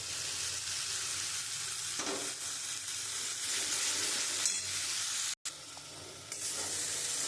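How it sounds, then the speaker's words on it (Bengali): Ground melon seed paste sautéed into a spiced masala for Kashmiri potato dum, giving a continuous close, even sizzle with occasional soft stirring scrapes and no voices. "আমি চাল মগজ দিয়ে খুব সুন্দর করে কষিয়ে নিয়েছি।"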